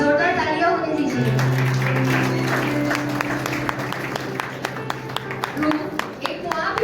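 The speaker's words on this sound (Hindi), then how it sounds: "जोरदार तालियां होने दीजिए।" Church congregation claps loudly at a service, with a steady patter of applause that thins into scattered sharp claps, while a sustained tone and a voice carry over it.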